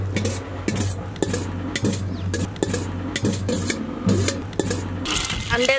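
Eggs added to hot oil in a wok while making egg noodles, with a continuous crackle and scraping of a utensil against the pan, busy metallic clinks throughout and a hiss building at the end.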